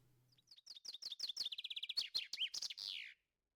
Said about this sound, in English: A loud bird.